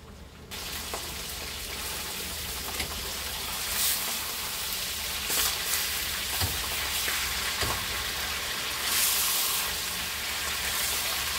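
Jerk pork browning in a hot pan in a home kitchen, giving a steady close sizzle with faint crackles and pops, without any talk.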